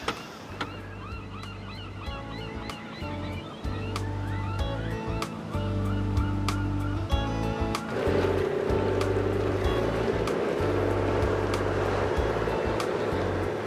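A small outboard motor drones steadily on open water, with splashing waves and a few bird calls over the engine noise.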